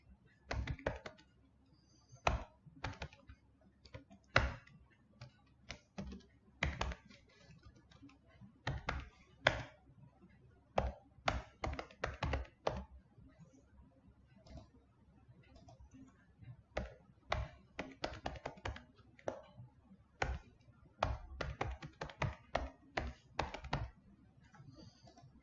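Code being typed on a computer keyboard: steady bursts of quick, close key clicks with short pauses, continuing through most of the stretch without talk.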